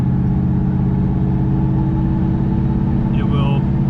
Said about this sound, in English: if I just roll on the throttle easy